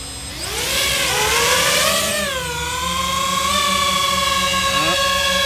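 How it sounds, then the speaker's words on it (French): FPV drone motors spinning up after arming, a loud high whine whose pitch climbs and then steadies into a sustained layered whir. "Le drone est armé."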